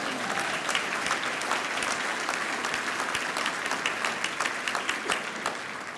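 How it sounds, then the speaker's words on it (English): An audience at a keynote speech bursts into sustained applause, a dense, even patter of many hands clapping across the hall for several seconds with no voices over it. "That's where you clap."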